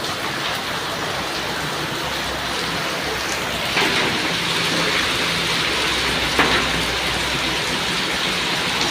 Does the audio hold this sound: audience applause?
no